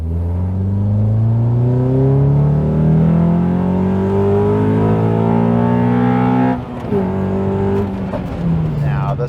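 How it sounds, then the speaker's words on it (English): A Honda Accord CL9 fitted with PLM headers revs hard through its gears, the engine note climbing sharply as it comes onto VTEC, then a quick shift and another rising pull, loud and close. "But the best part is now VTEC is finally audible."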